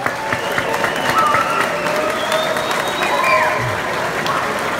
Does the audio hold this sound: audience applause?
yes